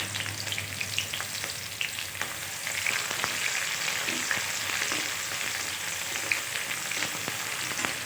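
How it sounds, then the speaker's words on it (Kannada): Mustard seeds splutter and crackle in hot oil in a pan, a dense, steady sizzle peppered with sharp little pops, close up and without any talking. "ನೋಡಿ ಈ ರೀತಿ ಸಾಸಿವೆ ಚೆನ್ನಾಗಿ ಚಿಡಿತಾ ಇದೆ."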